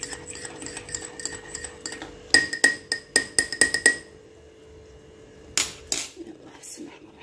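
A metal teaspoon clinks against a tea glass during a home breakfast, a fast run of about eight bright strikes, then a pause and two or three more clinks, close by over a faint background hum.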